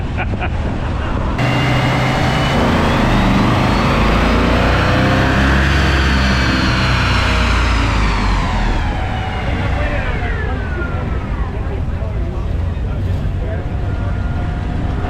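Chevrolet Chevelle V8 revving hard on a dyno, a loud, sustained roar that climbs and holds at high rpm before easing off, close and filling the room, with voices partly buried under it.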